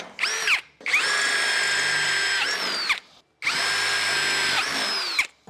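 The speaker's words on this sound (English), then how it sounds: "So now that I've got that drilled through" A power drill bores through stainless steel on a 4WD ute build, running in two long, loud whining bursts separated by a brief pause, with no talking.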